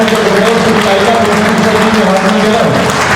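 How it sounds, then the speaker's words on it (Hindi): Crowd applause at a Vishwa Hindu Mahasangh foundation day gathering, a dense, continuous wash of clapping from many hands that stays steady and fairly loud throughout, with a voice over a loudspeaker mixed in. "जोरदार ताली बजाइए"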